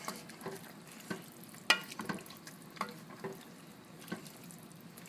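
Ingredients being stirred into a thick quinoa stew in a pot make soft, quiet scraping and sloshing sounds with occasional clinks of the spoon, over a low simmering background.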